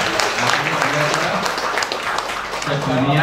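An audience at a gathering of local KKN students claps for a guest, giving sustained, moderately loud applause with voices audible over it.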